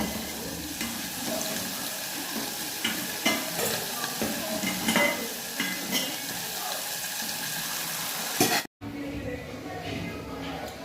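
Spinach and onion pakoda (bhajiya) fry in hot oil with a steady, continuous sizzle that runs almost without a break, mixed with occasional stirring and scraping clatter.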